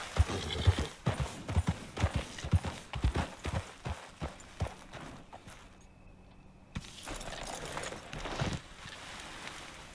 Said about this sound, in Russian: А садитесь на лошадь.